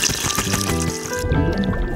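Water poured from a plastic bottle as a makeshift outdoor shower, splashing and trickling steadily for a couple of seconds, close and moderately loud with background music underneath.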